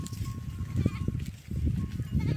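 Goats bleat close by in quick overlapping calls, several animals wavering and crying over one another in a short, busy burst of livestock noise.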